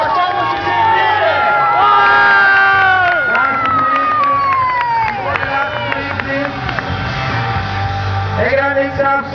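Loud crowd cheering and whooping at a Red Bull BMX bike night event, a dense sustained roar of many voices with shouts and whistles rising and falling throughout.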